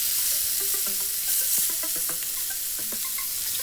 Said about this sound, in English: We're gonna grill the lamb chop on the same pan.